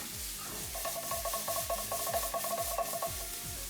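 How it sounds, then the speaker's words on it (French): Vegetables being stirred in a pan over low heat, a steady scraping and stirring rhythm over a continuous soft sizzle, close and clear with no voices. "Je remue un petit peu mes légumes"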